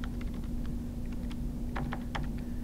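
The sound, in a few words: typing a DNS host name on a computer keyboard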